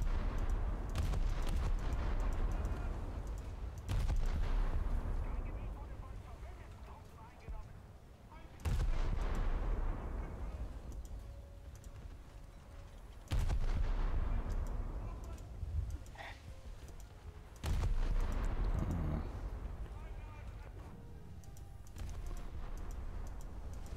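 Heavy tank cannon shots in War Thunder boom out at intervals, roughly four or five sharp blasts spread over a steady rumbling engine bed, while voices talk throughout.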